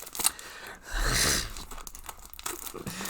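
Cutting open a plastic package holding a football shirt: one brief sharp tear and crinkle of wrapping, followed by scattered rustling and crunching of material close by.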